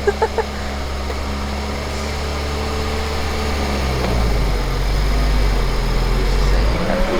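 A new Nissan Z's engine runs quietly at a low, steady idle-like hum inside the car, rising slightly in level partway through with faint rumble and no talk.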